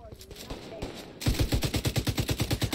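Machine gun fire in the video game The Division 2, a loud, fast, steady burst of automatic rounds after quieter earlier shots and game sounds, up front in the mix.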